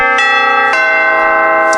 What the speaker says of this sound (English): Here's the bell for the European close.